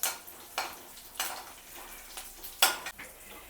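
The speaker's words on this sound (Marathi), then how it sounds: "मिरच्या चांगल्या तळून घ्यायच्या." Green chillies fry in oil with a soft background sizzle, punctuated by about five rhythmic stirring scrapes and clinks of a utensil against the pan, close by.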